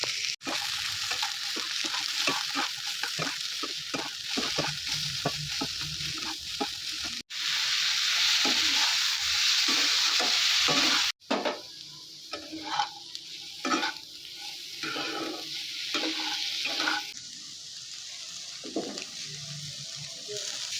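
Cashew, cumin, onion and garlic paste fast-frying in butter in a home kitchen: a steady sizzle with repeated scraping stir strokes, loud and close, briefly cutting out twice before resuming.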